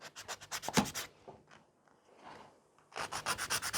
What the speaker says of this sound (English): So I'm filing the sides, nice and straight.